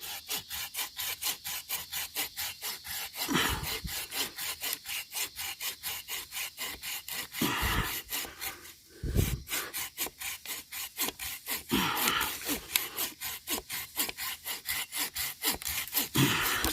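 A hand saw cuts through a tree trunk in the woods with brisk, even back-and-forth strokes, close and continuous, broken by a few short pauses.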